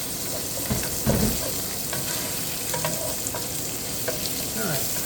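Marinated shrimp frying in a pan for stir-fried cabbage with garlic butter shrimp, a loud, continuous close sizzle with occasional scraping and stirring knocks.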